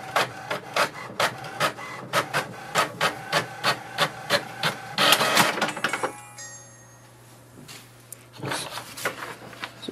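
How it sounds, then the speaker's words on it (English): An HP Envy 6030 inkjet printer prints its information page with a rapid, regular series of mechanical clacks, then a whirring paper feed and softer shuffling; close and clear, no talk. "it will send a command for the printer to print the printer information page."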